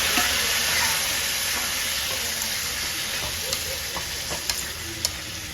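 A tempering of spices sizzles in hot oil in a pan with a steady, strong hiss, while a few sharp taps and scrapes of a stirring spoon stand out toward the end.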